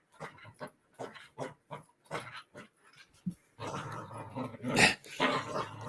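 Dog growls and gives short, gruff barks in a quick uneven series of bursts, near and fairly faint, becoming rougher and more continuous toward the end.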